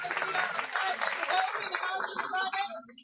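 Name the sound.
audience round of applause at meeting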